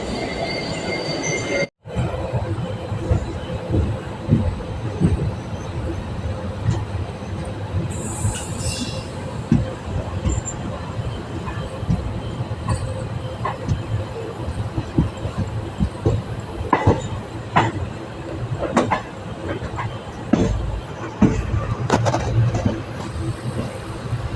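A train rumbles steadily with faint wheel squeals and clattering, heard continuously from on board an unreserved coach as it moves off on the Chennai to Salem line.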